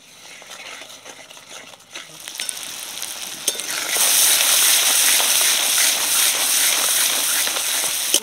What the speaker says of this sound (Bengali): এবার সব মশলা একসাথে ভালো করে কষে নেব।